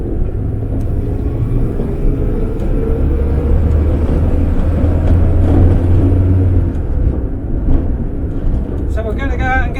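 A 1950s Standard 10 car idling and running with a newly fitted stainless steel exhaust, a steady low rumbling drone with some engine note swells, loud and close, and a voice speaking briefly near the end.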